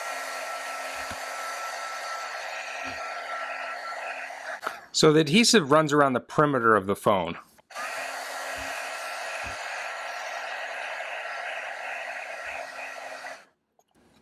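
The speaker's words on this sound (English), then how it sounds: "So I'm going to heat this up with this little pencil heating gun." A small pencil heat gun heating an iPhone 6s blows a steady airy whoosh up close. It cuts out while someone speaks, then resumes and runs on before stopping abruptly.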